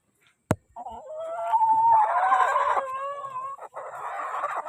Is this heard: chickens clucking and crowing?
yes